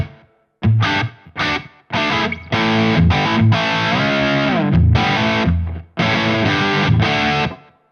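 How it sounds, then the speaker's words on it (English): An electric guitar run through a Synergy Friedman DS preamp with stereo delay and reverb plays loud, distorted chords and riffs, with short stabs and sustained chords separated by brief gaps. "I am going to add my stereo delay and reverb just for the fun of it."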